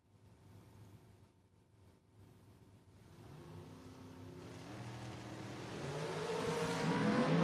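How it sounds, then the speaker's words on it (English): Drag racing engines at a spring racing event start from a low rumble and build into a rising, increasingly loud roar of revving as the cars launch. No one talks. "Got ourselves a good, clean drag race."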